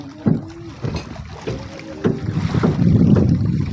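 Fishing boats out on the open sea, with engine drone and water rumble building steadily under gusty wind buffeting the microphone, a few hollow knocks near the start.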